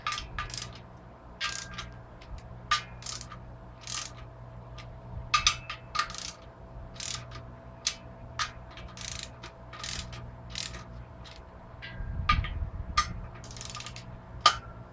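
Pressure plate bolts on an LS7 clutch with an LS2 flywheel are drawn down evenly by hand with a ratchet. Scattered sharp clicks and metallic taps come close by, with a low rumble near the end.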